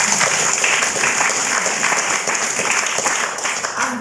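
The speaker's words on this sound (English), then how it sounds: "We'll applaud that." Audience applause at a question-and-answer session fills the room as dense, steady clapping, loud and continuous for the whole stretch with no pause.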